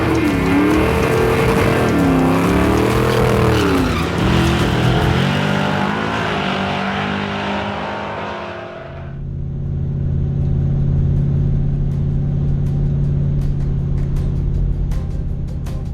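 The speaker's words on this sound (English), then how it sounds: "We've got one of our gas class cars." A gas class drag racing car's engine roars loudly and close, its pitch wavering with revs before it cuts off abruptly. A lower, steady rumble follows.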